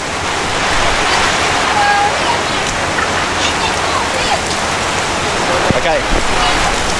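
Heavy rain pours down at Tonle Sap lake in Cambodia, giving a dense, steady hiss that stays loud and close throughout, with brief voices and a few faint bird calls under the downpour.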